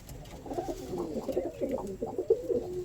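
Several pigeons coo nearby in soft, rolling, repeated phrases that overlap steadily through the short stretch, with no talking over them.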